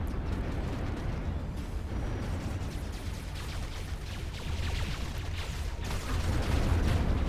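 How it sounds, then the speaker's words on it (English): Artillery rounds hit in the Ashes of the Singularity strategy game, a continuous rumbling barrage of booms and crackling impacts, loud and dense across the whole stretch with no talk. "Taking some hits from artillery."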